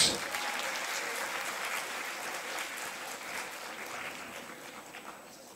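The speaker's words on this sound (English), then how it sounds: "Welcome them with a round of applause." Audience at an inter-school quiz competition claps, starting with a burst and then continuing softly and evenly for a few seconds as the sound gradually fades, somewhat distant and quiet.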